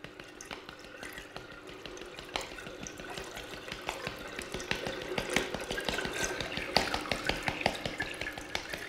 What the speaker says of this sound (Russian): Вот так вот постепенно на области с течением засыпаем соль.